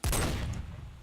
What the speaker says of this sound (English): So I'm gonna go ahead and take out Barrett 50 cal.